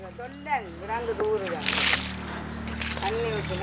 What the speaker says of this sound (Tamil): இந்த இதுக்கு இப்போ தண்ணியை ஊற்றுறேன் காமிச்சி